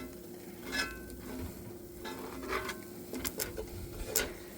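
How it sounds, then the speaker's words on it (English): Gravy is stirred in a pan to lift the browned bits from the bottom, with soft scraping strokes and light bubbling sizzle in an uneven rhythm, close but quiet, and no voices. "I'm just going to stir it up a little bit right here"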